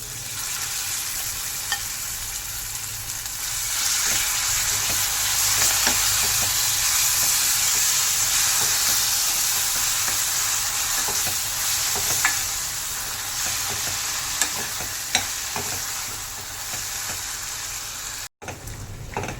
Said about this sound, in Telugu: తాలింపు బాగా ఫ్రై అయిన తర్వాత ముందుగా నూరుకున్న పచ్చడి వేసుకోవాలి.